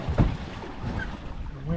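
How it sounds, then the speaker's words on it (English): Wind buffeting a small fishing boat offshore near Key Largo, Florida, a steady rumbling gust noise with water and hull sounds, moderately loud throughout with faint background voice. "The wind's starting to calm down"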